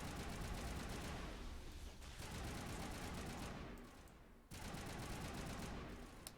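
Assault rifle fire in Mass Effect comes as dense bursts of rapid shots that pause briefly, dip, then resume, fairly faint overall.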